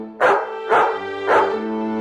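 Two large dogs barking as a storybook sound effect, three loud, close, evenly spaced barks with no voices.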